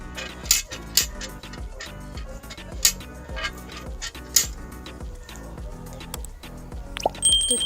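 Rinse water left from washing rice and lentils is poured onto rooftop plants, giving a series of close drips and plops with light clinks of a metal vessel, steady splashing toward the end.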